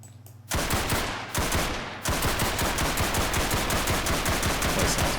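Rapid automatic gunfire in the video game Roblox, loud, close bursts of evenly spaced shots with two brief pauses between volleys before a long continuous stream.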